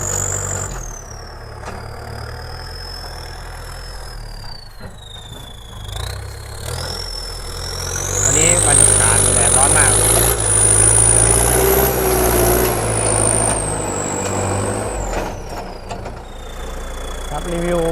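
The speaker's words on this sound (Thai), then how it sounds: "เทอร์โบเล็กเครื่องกองเปียกนะครับ เสียงก็ประมาณนี้" Steady idle of a used truck's small-turbo engine with a wet air filter, running alone without speech, with a whining high tone that climbs and holds midway through.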